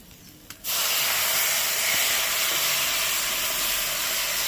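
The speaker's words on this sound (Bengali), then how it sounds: "আমি গরম জলটা ঢেলে দেবো যেটা করে রাখলে একটু আগে" Hot water splashes into a sizzling pot of bhog khichuri with turmeric, bursting at once into a loud, sustained hiss of steam and spitting that keeps roaring without a break.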